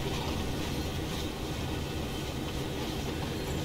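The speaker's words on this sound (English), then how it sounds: "Can just turn off the throttle, let the train coast." A train in the Train Sim World game coasts along with the throttle off on a Canadian line near Oakville, giving a steady, dense rolling rumble with a broad rail hiss that continues without change from start to finish.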